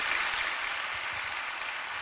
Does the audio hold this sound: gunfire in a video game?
no